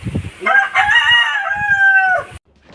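A white Kelso rooster lets out one loud, close crow that holds steady for nearly two seconds and then cuts off sharply, with a few soft clucks just before it.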